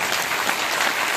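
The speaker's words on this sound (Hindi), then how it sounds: "जोरदार ताली होनी चाहिए" An audience claps in dense, continuous applause at a motivational seminar, loud and steady throughout with no voices rising above it.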